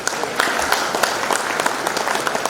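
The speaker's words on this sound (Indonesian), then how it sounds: "Tepuk tangan dong." Applause fills a village graduate program launch event, a steady burst of many hands clapping at moderate loudness throughout.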